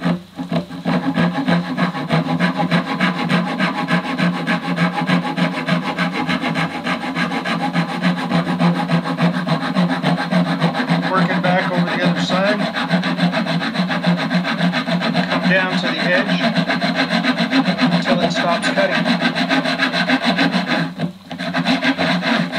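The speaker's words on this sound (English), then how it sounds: "So now all we got to do is very gently get our slot started." A hand saw guided by a jig cutting a fret slot into a violin fingerboard, giving steady back-and-forth rasping strokes in a close, continuous rhythm with a brief pause near the end.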